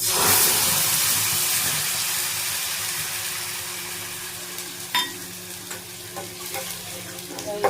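Oil sizzles and crackles steadily in a hot wok, loudest at the start and easing off, with a few sharp scrapes from stirring near the end.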